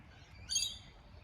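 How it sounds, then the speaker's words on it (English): A single faint, high bird chirp from a small bird in a city backyard, heard distantly over a quiet outdoor hush. "And all the little birdies and the baby birds."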